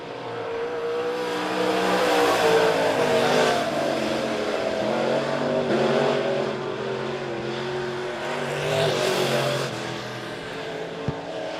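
Race cars lap a short oval at Monett Motor Speedway, engines swelling loudly as they pass close and fading away again in repeated waves, with faint tire squeal mixed in and no talking.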